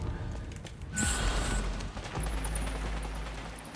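Bursts of rapid gunfire and booms in a dense, noisy soundscape from the battle royale game Bloodhunt, fairly loud and continuous, with no speech.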